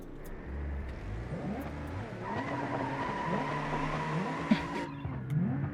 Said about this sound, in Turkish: Ben için ne yapamayacağım şimdi el freni çekeyim.